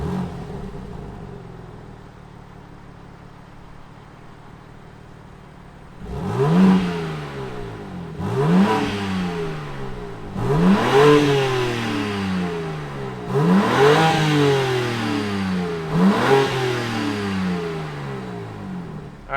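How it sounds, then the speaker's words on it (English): A 2021 BMW M3 Competition sits quiet at first, then its engine fires up loudly and revs repeatedly, with five or six sharp rising-and-falling blips in close succession. "why don't we fire up this new M3 and hear what it sounds like"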